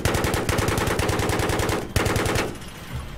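Rapid automatic gunfire rattles loudly in a Battlefield-style video game battle on the Caspian Border map. Steady bursts of shots run for most of the moment, then break off and trail into fainter fire near the end.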